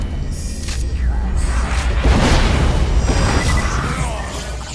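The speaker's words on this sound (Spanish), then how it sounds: "Escopeta para revivir muy mal, porque salen los tiros" Shotgun blasts in the Borderlands shooter game boom and crash through a busy firefight, several heavy bursts overlapping amid ongoing game noise with a little speech.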